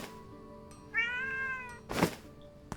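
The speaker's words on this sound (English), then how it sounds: "Yes, Kitty, yes, you're beautiful." Cat meowing indoors, one clear drawn-out meow followed by a shorter, louder cry, close to the microphone and heard alone over a quiet background hum.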